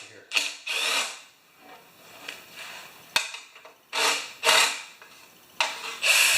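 Recoil starter on a Tecumseh 3.5 HP engine being pulled and rewinding in several quick ratcheting bursts: two close together, a lone click, then two more pairs, moderately loud and close with quiet gaps between.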